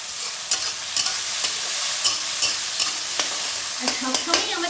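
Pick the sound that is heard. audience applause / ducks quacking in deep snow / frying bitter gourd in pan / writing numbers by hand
frying bitter gourd in pan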